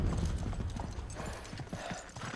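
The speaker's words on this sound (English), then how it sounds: "We just ran into a wall on a horse, by the way." Horse hooves clip-clop rapidly in the Uncharted 3 video game, a dense, close, galloping patter with a low rumble underneath, steady throughout without speech.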